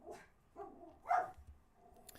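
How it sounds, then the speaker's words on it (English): A pet dog barks indoors a few times at a moderate distance, short separate yips spread across a couple of seconds against a quiet room. "Oh, there's my dog."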